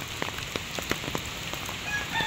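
Heavy rain falling outdoors near a stream and fruit trees, a dense steady patter with scattered louder drops close by and faint bird calls.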